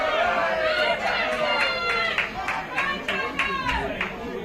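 Crowd at an AFL match in Sydney, Illawarra against Sydney University, cheering and clapping as a favourite player comes on, a steady broad roar with rhythmic claps and scattered calls, loud and sustained throughout.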